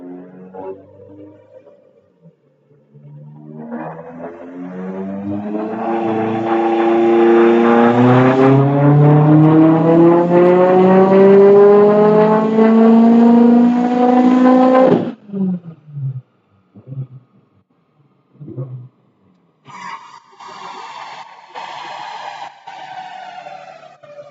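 A 2007 Subaru STi built to G30-770 spec and running on E85, its engine revving loud and rising steadily in pitch as it accelerates hard, then cutting off sharply, followed by a few short bursts and a higher tone near the end.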